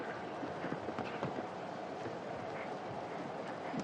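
Horse hooves clip-clopping over the ground during a show jumping round at a Shanghai competition, a steady run of muffled thuds under broad arena noise.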